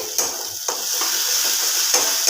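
Spice masala sautéing in a pan for egg curry, a steady high sizzle with a few sharp scraping stirs cutting through, close and fairly loud with no talking.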